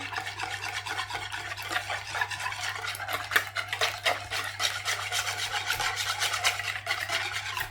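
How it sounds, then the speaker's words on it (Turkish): Batter ingredients, apple vinegar poured over baking powder, being whisked in a bowl, a steady close scraping and stirring rhythm with quick strokes, continuous and moderately loud. "İyice çırpacağım bütün malzemelerimizi"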